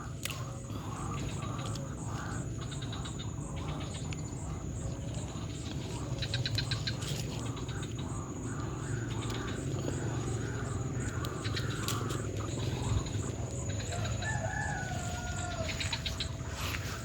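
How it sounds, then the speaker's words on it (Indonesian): Birds calling outdoors on open land beside a patch of water spinach, scattered chirps and short calls over a constant high insect-like drone and low background hum, fairly faint and distant. "Suara burung."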